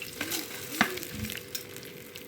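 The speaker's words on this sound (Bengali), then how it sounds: "দেখুন চালটা ঢেলে দিলাম এবার লো ফ্লেমে রেখে চালটা ভেজে নেব" Rice being fried in hot ghee in a pan over low flame, giving soft, close crackling sizzle with a few scraping stir sounds, no voices.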